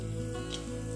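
Sliced onion, cinnamon pieces and cloves fry in oil, giving a steady, close, even sizzle that holds throughout the short moment.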